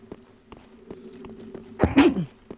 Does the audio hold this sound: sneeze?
yes